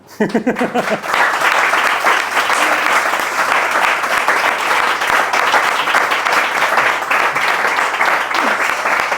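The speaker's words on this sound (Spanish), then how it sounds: "un fuerte aplauso para este hombre, que es Jesús Báez, el único e irrepetible" An audience bursts into sustained, loud applause for an author at a book presentation, opening with a few scattered claps before swelling into steady, dense clapping from many people that carries on evenly.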